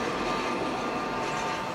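A Norfolk Southern 28B freight train rumbles past close by as a steady, loud, broadband roar of rolling cars and wheels on rail, with a faint metallic tone running through it.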